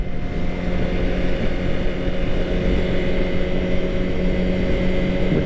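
A 2013 Suzuki GSX-R 600 sport motorcycle cruising in second gear, a steady, loud engine drone with a sustained tone and continuous wind rush, holding even revs throughout with no talk.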